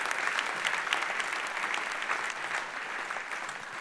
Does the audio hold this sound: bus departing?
no